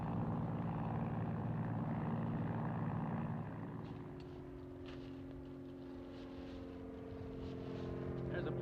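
Propeller airplane drone heard in an old 1960s TV drama, a steady loud engine hum that eases to a lower, more distant steady tone partway through.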